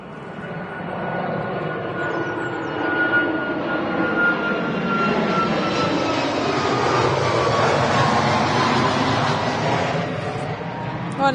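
An airliner approaching Manchester Airport makes a steady, broad jet roar that swells toward a peak near the end and then eases, loud throughout with a faint voice beneath.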